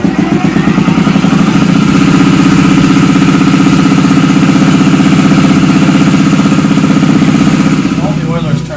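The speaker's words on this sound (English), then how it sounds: "we've got it unloading and operating properly" An air compressor supplying a steam engine at a roller mill chugs loudly and steadily at close range with a rhythmic pulsing throb, running continuously before a brief rattle at the end.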